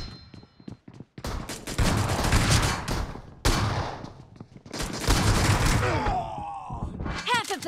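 Dense bursts of gunfire in the BGMI battle royale game, loud and near, with repeated rapid volleys and heavy impacts filling most of the stretch, broken by short pauses and a few whooshing effects near the end.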